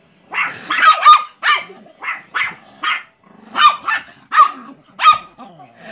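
Chihuahua barking up close, a series of sharp high yaps in uneven bursts with short pauses between them.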